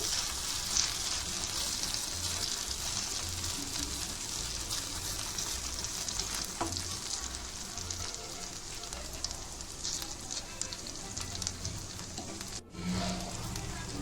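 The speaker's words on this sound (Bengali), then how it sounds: "আমি যে এখানে 1 চামচ তেল দিয়েছি সেই তেলেই কিন্তু ভাজা হয়ে যাবে" Spoonfuls of batter fry in a single spoon of oil in a pan, giving a steady soft sizzle that runs continuously at moderate level with light scraping, briefly interrupted near the end.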